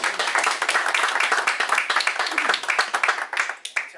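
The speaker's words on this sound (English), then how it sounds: "Another round of applause." Audience applause at a live talk or presentation, a dense, sustained wash of many hands clapping with a few louder individual claps, fairly close and full, tapering slightly toward the end.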